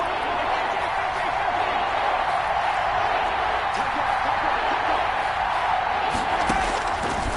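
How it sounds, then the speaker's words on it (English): Steady, dense roar of a stadium crowd building ahead of a big third down in a PS4 American football video game, continuous broadband noise filling the whole stretch at an even level. "The crowd getting into it as we come up on a big 3rd down."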